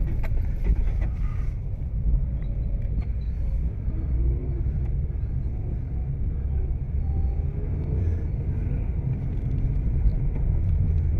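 Car engine running steadily through a driving lesson, a continuous low rumble of a moving car heard from inside the cabin, with no talk over it.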